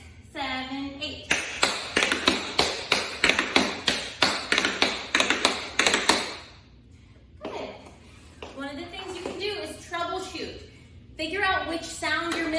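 Tap shoes doing double pullbacks on the left foot, a rapid run of crisp, evenly spaced taps near the mic, followed by spoken instruction and a few more scattered taps.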